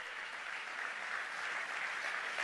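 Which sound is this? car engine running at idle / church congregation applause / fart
church congregation applause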